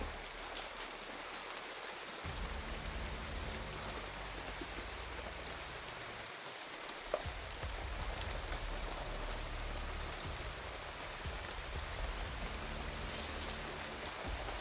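Steady, heavy rain pours down continuously, a dense hiss of drops hitting surfaces, with a low rumble underneath and no voices.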